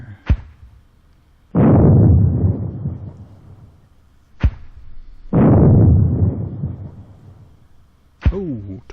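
Mortar rounds exploding in a war video game, two heavy booming detonations a few seconds apart, each preceded by a sharp launch crack and followed by a long rolling rumble, with another crack and a whistling tone at the end.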